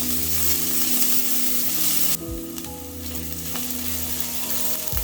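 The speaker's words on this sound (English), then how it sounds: "Once my oil is hot enough, I'll go in with my onions and my garlic. Then I'm going to saute this till translucent." Onions and garlic sauté in hot oil, a loud, close, steady sizzle and crackle, briefly interrupted by stirring, with no voices.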